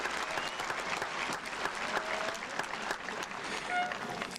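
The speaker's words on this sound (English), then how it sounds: "Let's give them both a big round of applause" Applause from the crowd at a high school commencement ceremony, a sustained bed of many hands clapping with a few sharper near claps and faint cheers mixed in, with no talk over it.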